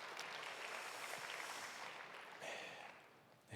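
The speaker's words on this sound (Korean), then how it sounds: "하나님께 감사의 박수 드리겠습니다." A church congregation claps together at a young adults' worship service, a dense, steady wash of applause that carries on evenly and swells briefly near the end.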